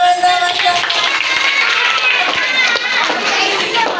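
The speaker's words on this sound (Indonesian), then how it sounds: "Tepuk tangannya teman-teman." A group of children claps hands together for the whole stretch, loud, close and dense, mixed with some young voices.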